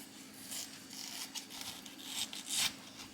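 A knife slices through a head of cauliflower, cutting it into thick steaks, making quiet, close crunching and scraping strokes in a few short bursts, the last one louder.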